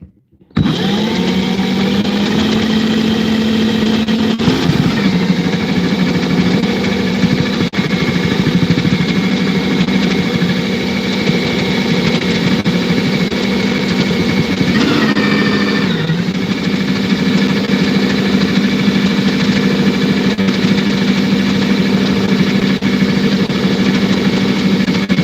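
A small pump motor hums steadily after switching on, a loud, continuous whine with a slight wobble in pitch midway, running alone without talk.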